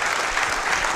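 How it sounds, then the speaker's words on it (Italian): Brief burst of audience applause at an Italian broadcast event, a dense, even wash of clapping heard for about a second with no voices over it. "quindi un applauso"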